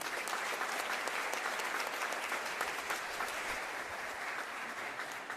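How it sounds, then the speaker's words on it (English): An audience at a high school college signing event applauds the athletic director, sustained, dense clapping from a crowd at steady volume with no talk over it. "Let's give him a round of applause for being here."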